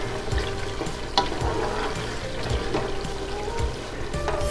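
Masala with almonds for malai kofta fries in a pan, a close, continuous crackle and sizzle broken by soft scraping stirs and occasional clinks of the spoon, no talk.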